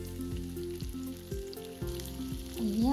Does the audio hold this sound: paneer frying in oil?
yes